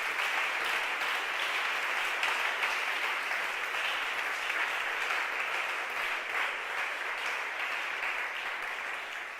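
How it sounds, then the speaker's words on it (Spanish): Sustained, dense applause from a church congregation during an evening sermon, a steady wash of many hands clapping that keeps up for several seconds and eases off slightly at the end, with no talking over it. "Denle un aplauso a Jesús"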